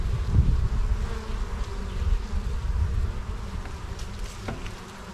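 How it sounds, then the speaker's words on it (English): Bees drone in a steady, low buzz from inside an opened hive, close and continuous, with a few sharper buzzes of individual insects passing near toward the end. "There's a lot of bees inside the hive."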